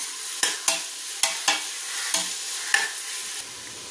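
Tomato cubes with ginger garlic paste stirred in a pan for beef curry, a spoon scraping and knocking the pan in about seven distinct close strokes over a faint sizzle.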